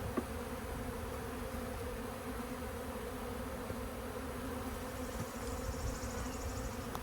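Honeybees drone in a steady, dense hum around an opened hive during an inspection with no signs of swarming, the buzzing continuous and close without pause.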